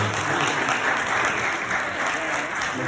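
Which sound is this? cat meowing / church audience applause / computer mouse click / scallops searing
church audience applause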